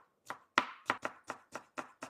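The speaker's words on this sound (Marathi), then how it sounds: "आपण आता हिरवी मिरची पण बारीक चॉप करून घेऊ।" A knife chops green chili finely on a board, eight crisp evenly spaced cuts with a steady rhythm, close and clear with no talk.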